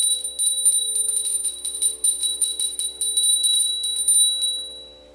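A ritual hand bell rung during worship, a bright sustained ringing shaken in rapid repeated strokes, loud and close, fading out at the end.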